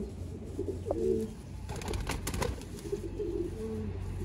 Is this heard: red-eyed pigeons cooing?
yes